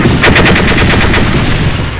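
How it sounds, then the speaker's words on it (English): Rapid bursts of a coaxial autocannon firing from an armored vehicle in a Russian-themed video game mod, a loud, steady stream of evenly spaced shots lasting about two seconds with no talking. "Got a coaxial autocannon."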